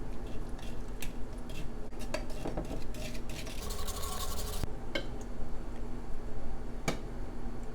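Miso paste is stirred into hot, near-boiling dashi in a pot, with close clinks and scrapes of a utensil against the pot and soft squishy stirring, irregular and fairly quiet.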